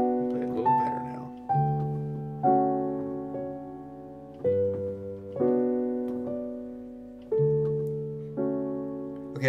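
Piano plays the second part of Erik Satie's Gymnopédie No.1, slow sustained chords struck one after another at an even, unhurried pace, each ringing out and decaying before the next, quiet and alone with no talking.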